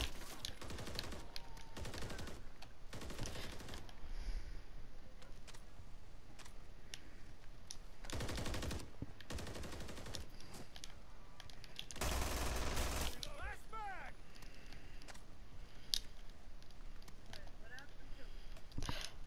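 A 70-round machine gun fires in Call of Duty Modern Warfare 3 Zombies, with several loud bursts of rapid gunfire scattered through the stretch and quieter game noise in between.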